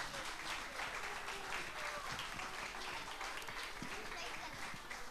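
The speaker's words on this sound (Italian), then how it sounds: "Auguri Giovanna, un grosso applauso." Audience applause for Giovanna's birthday at a dance academy, a steady dense wash of clapping that fills the whole stretch at even loudness, with voices mixed in underneath.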